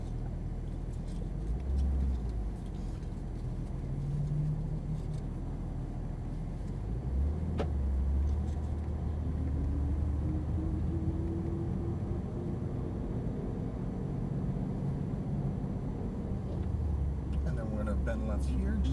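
A Porsche 911 GT3 of the 991 generation drives at low speed, its engine a steady deep rumble heard from inside the cabin, with faint clicks and the engine note shifting slightly as it moves.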